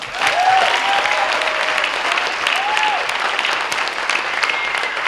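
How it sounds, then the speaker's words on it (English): Sustained applause from a storytelling event audience, steady clapping throughout with a few faint whistles rising over it. "one final final round of applause for our storytellers"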